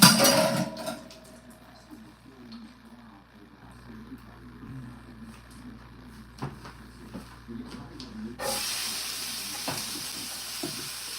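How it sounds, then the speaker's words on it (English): Onions cooking in a hot pan for a beef chunk, sausage and vegetable dish in red sauce, giving a low, steady sizzle and frying hiss with faint kitchen clatter and muffled voices in the background. "We're gonna cook the onions for just a little bit."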